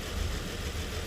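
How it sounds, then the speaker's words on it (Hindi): A Nissan V6 engine idles during a cylinder power balance test, a steady, low, rumbling drone at moderate level with no speech over it. "अभी ये 6 सिलेंडर इंजन है, V6 है।"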